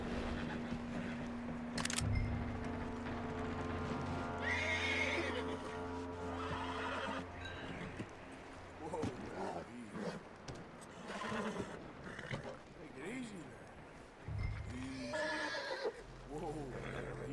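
A horse in Red Dead Redemption 2 neighs and whinnies several times, with hooves clopping close by, mixed with speech and game sounds.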